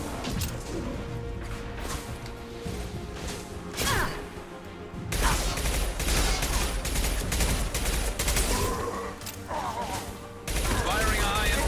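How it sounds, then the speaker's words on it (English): Loud Mass Effect 2 combat with a dense burst of heavy weapon fire and crashing impacts, sustained across the whole stretch, with a sharp surge midway and a voice speaking underneath. "Firing a high impact shot."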